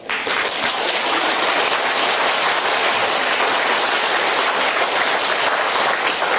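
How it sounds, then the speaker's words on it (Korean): A lecture audience breaks into sustained, dense applause, many hands clapping together at an even, loud level with no talk over it. "여러분들 박수 치니까 이상하네"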